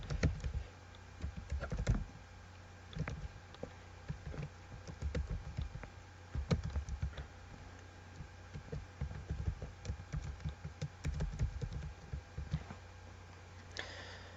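Keys clatter on a computer keyboard in irregular bursts of close, crisp clicks that run the whole stretch alone, with short pauses between typed runs and no voices.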